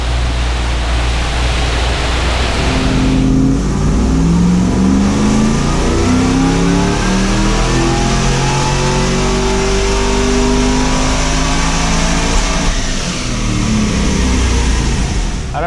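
A car engine on a dyno sweeps upward in one long, loud power run, the roar climbing steadily in pitch over a constant wash of fan and rolling noise before cutting back near the end.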